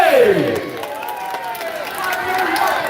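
An audience at the final of an Islamic school quiz competition at Dayah Manhajul Fata cheers and applauds for team C: a dense, steady crowd roar with whoops and claps that holds loud for the full stretch.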